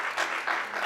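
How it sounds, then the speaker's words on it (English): Brief burst of audience clapping at a corporate board diversity and inclusion briefing in Kenya, fairly loud and steady for under a second. "I think the country deserves a clap."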